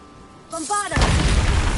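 A Bombarda blasting spell from a Harry Potter video game goes off in one loud, sudden burst that turns into a broad, roaring rumble. Brief tonal chimes from the spell come just before it.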